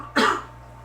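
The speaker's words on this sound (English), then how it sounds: "I feel like coughing." A single short, sharp cough with a throaty edge, close and clear, after which only faint background hum remains.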